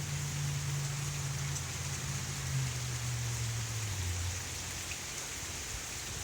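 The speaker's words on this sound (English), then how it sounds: "it's been raining out here" Steady rain falls outdoors onto leaf-covered ground on a cold autumn day, a continuous soft hiss close by with a faint low hum underneath and no voices.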